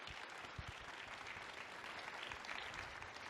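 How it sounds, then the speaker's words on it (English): A community event audience applauds in a dense, continuous wash of clapping, heard faint and distant for a few seconds. "So one more round of applause for Roberto, please."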